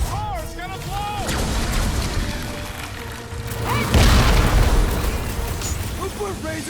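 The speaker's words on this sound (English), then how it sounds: "That car's gonna blow!" Car exploding in the Guardians of the Galaxy video game, a single heavy boom about midway that swells into a roaring rumble, with voices talking before and after the blast.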